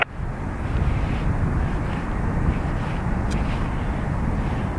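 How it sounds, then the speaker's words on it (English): Airbus A321neo taking off from Dublin Airport, a broad steady roar of jet engines at full power heard from a distance, sustained and even with slight wind buffeting. "It's an A321neo off to JFK."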